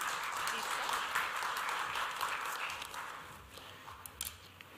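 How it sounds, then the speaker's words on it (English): Audience applause at a 2019 corporate awards ceremony, a fairly faint patter of clapping that thins out toward the end, with a few louder claps. "A round of applause for him, please."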